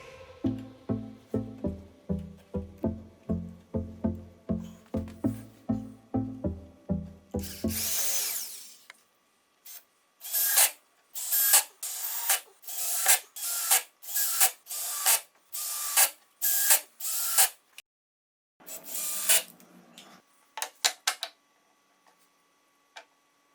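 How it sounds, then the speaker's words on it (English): Power drill driving screws into 18mm Baltic birch plywood for a homemade table saw top: a run of steady rhythmic whirring bursts, then a series of short, loud, close drill bursts with pauses between, no talk. "Now I install the rest of the pieces using screws, being careful not to overlap any screw."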